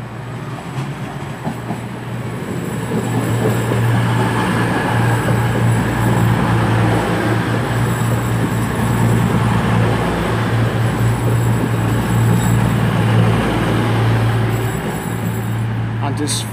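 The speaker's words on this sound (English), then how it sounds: "Coming in now is a 14:40 cross country service from Bournemouth to Manchester" A CrossCountry service from Bournemouth to Manchester Piccadilly rolls into Oxford station, its loud diesel rumble and steady drone building and holding close by for about sixteen seconds with wheel noise.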